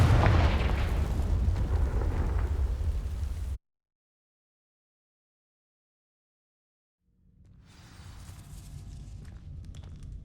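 A Confringo fire spell from the Hogwarts Legacy video game bursts as a loud, booming explosion with a rumbling tail that cuts to silence, then a softer rumble and crackle return.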